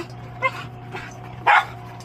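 Two dogs bark on a boat during a watermaker repair, giving a few sharp, loud barks and yips over a steady low engine hum.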